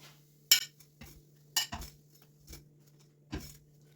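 Crispy homemade chicken fillets are lifted from the pan onto a plate, making four or five sharp metallic clinks and taps at uneven intervals. They are close but quiet, with nothing else heard.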